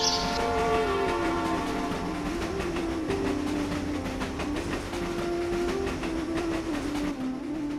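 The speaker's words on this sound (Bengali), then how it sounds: "আমার ট্রেন আসার সময় হয়ে গেছে।" A train rolls in loudly with a sustained horn blast and rhythmic clacking of wheels over rails, close by and continuous.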